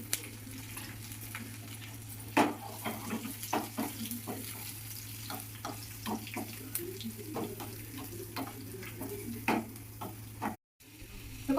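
Tempering for tamarind leaf chutney sizzles quietly in a pan, a soft continuous crackle with scattered sharp pops and light clinks over a low steady hum, briefly cutting out near the end.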